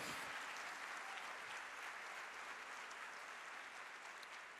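A church congregation claps steadily throughout, a dense, even wash of applause heard from a distance at low volume, with no voices standing out.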